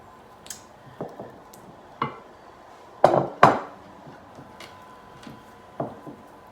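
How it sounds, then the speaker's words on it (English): Baking pans being buttered for old-style cornbread dressing: scattered metallic clinks and taps of pans and utensils, about eight distinct knocks spread irregularly, the loudest pair in the middle, with quiet pauses between. "You want to just butter these pans generously and then sit them aside."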